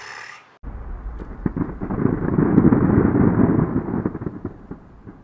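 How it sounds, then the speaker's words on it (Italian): Fireworks explosions in an anime film, a dense rumbling barrage of booms and crackles rising to a sustained roar then tapering, loud and close after a brief high hiss at the start. "Avete presente i fuochi d'artificio, quelli che fanno..."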